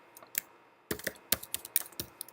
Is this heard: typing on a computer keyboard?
yes